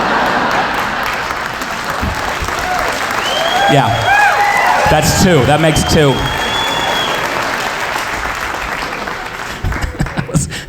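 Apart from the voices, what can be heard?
audience applause at a comedy show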